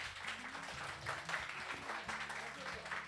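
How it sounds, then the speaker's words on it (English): Audience applause at a book launch event, a steady wash of clapping from a gathered crowd filling the room with some murmuring voices underneath. "Can we have a big round of applause?"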